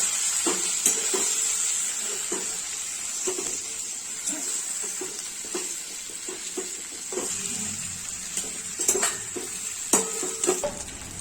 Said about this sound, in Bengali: এবার চিকেন গুলো দিয়ে ভালো করে নেড়ে নেবো